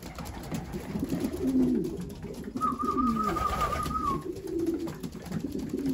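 Soft, low cooing from racing pigeons repeats a few times over a busy outdoor background on a hot day, with a brief higher whistle-like call in the middle.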